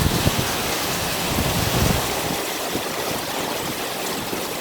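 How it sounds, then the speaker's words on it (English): Heavy rain pours down hard outdoors, a dense, loud, steady wash of water close by with gusts of wind, continuous throughout with no talking. "That is the rain."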